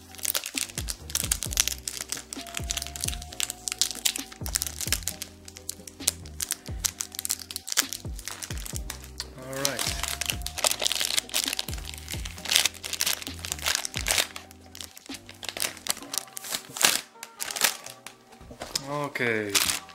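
Cellophane wrapper crinkling sharply in repeated bursts as an authentic Paco Rabanne Pure XS perfume box is opened, close up, with talk mixed in.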